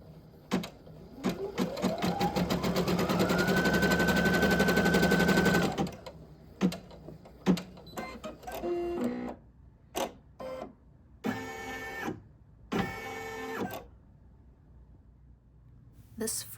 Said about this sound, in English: I just lay my piece of fabric so that those pieces are covered and the machine's going to stitch away.